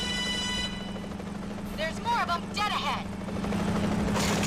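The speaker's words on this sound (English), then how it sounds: "Watch out for that helicopter!" In the video game Agent Under Fire, a helicopter's steady low rotor thrum runs throughout, loud and continuous, while a character's voice speaks over it partway through.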